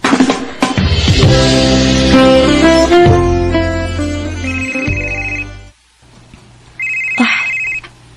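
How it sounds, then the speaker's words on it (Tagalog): A phone ringtone for an incoming call plays loud and close, a bright melodic electronic tune that cuts off briefly and then resumes with a higher repeated tone. "Si Jelly ning nanawag."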